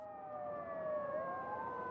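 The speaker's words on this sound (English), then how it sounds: "Sirens wailed in the streets." A siren wails steadily, its pitch sliding down and then rising again, heard from a moderate distance over low background rumble.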